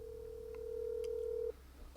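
A telephone ringing tone on an outgoing call to Mom, a single steady electronic tone lasting about a second and a half, fairly loud over a quiet room, then cutting off abruptly.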